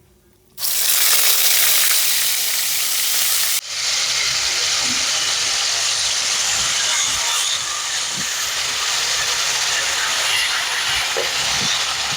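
Onion paste drops into hot oil in a pan for green chilli chicken curry, setting off a sudden loud hiss that settles into a steady, strong sizzle with a few soft knocks.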